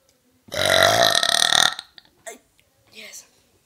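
A single loud, long, throaty burp rumbles for about a second, followed by a couple of small trailing noises and a faint breathy sound. No other sound is present.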